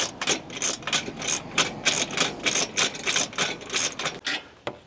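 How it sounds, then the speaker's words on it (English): A ratchet wrench clicks in fast, loud, rhythmic bursts as it tightens the mounting hardware of a Naturnest Sirius 1 Plus rooftop tent on a vehicle roof. "is torquing away. We're almost done mounting the tent."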